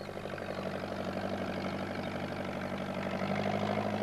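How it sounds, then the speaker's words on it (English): A tractor engine runs at a steady idle, a continuous low rumble with a faint knocking pulse, unbroken and fairly close. "Pat wasn't sure that he wanted to ride on a tractor,"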